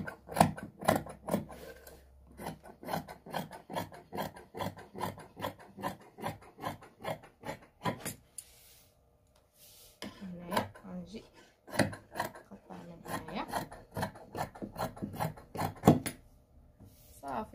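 Scissors cut through dress fabric for a mkhawir in quick rhythmic snips, a close, dry rasping series that pauses briefly midway and then resumes.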